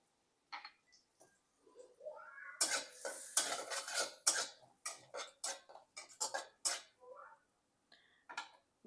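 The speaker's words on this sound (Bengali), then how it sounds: "এখন আমি দিয়ে দিচ্ছি গোটা জিরে।" A spatula scrapes and clinks against a pan as whole cumin is fried in oil and butter, giving quiet, irregular bursts of metallic stirring close by with no voices.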